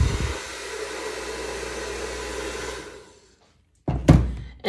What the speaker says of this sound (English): We're gonna come in with those brighter tones and just coming in with that blow dryer again.